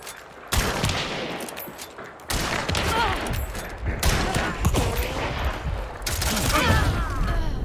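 Gunfire from the video game Hunt: Showdown rings out in loud, dense bursts of repeated shots that overlap and echo, with short gaps between volleys.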